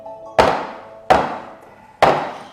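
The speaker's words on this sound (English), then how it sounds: "just give it a quick bang." A cake pan holding marble bundt batter is banged three times on a surface, each sharp, close thunk ringing briefly and fading before the next, evenly spaced with no talking.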